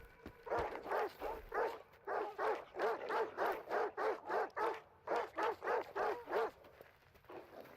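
Dogs in S.T.A.L.K.E.R. 2 bark before attacking, a rapid, loud, close series of about sixteen evenly spaced barks, with only a short pause near the end.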